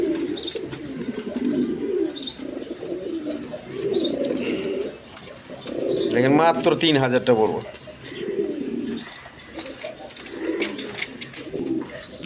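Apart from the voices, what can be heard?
pigeons cooing, Raj Golla pigeons for sale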